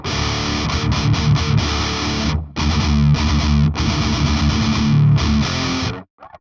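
Heavy distorted electric guitar through the OTTO amp sim on its Block Letta 3 setting, loud thick chugging riffs with short breaks, ending in a few clipped stabs before silence.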